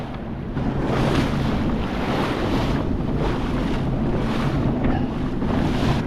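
Strong wind buffets the microphone in a constant roar out on open water on a Sea-Doo, with rolling surges of ocean swells washing beneath it.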